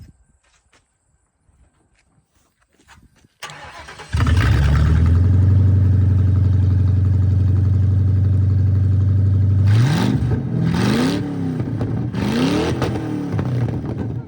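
A car with its exhaust cut off starts with a rough bark and then idles loud and close, with a deep, steady drone. It revs up sharply three times toward the end.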